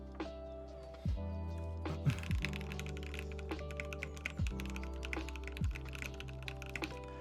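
Typing on a Satisfaction75 mechanical keyboard, a fast close stream of fairly quiet key clacks with soft thocks, running under a steady low tonal hum.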